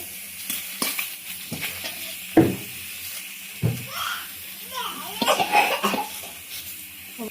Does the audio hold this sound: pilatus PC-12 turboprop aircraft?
no